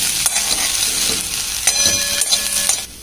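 Grated coconut gets stirred into carrot thoran in a pan, with repeated loud spatula clacks and scrapes over a soft sizzle, close up and without speech.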